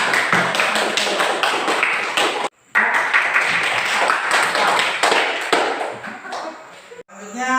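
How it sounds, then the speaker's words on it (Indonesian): Students clapping their hands in a classroom, a dense patter of claps running for several seconds with a brief pause, mixed with voices talking. "Nah, tepuk tangan."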